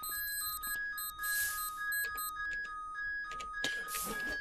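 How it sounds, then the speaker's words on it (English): A house alarm in the zombie survival game Cataclysm: Dark Days Ahead sounds continuously as a steady electronic tone with beeping layers, broken by bursts of hiss, fairly loud throughout. "So there's definitely an alarm in this house."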